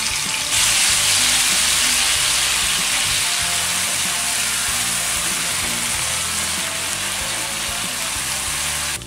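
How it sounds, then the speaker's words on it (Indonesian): Ground spice paste hits hot oil in a pan while cooking kangkung belacan, a loud, dense, steady sizzle and crackle of frying that holds for several seconds close to the pan, with no talking. "pertama panaskan minyak secukupnya, lalu tuang bumbu ulek ya."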